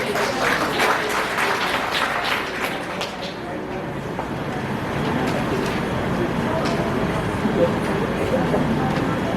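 Audience applause at a PTA induction ceremony, a broad, moderately loud clapping wash that rises and settles with crowd noise mixed in.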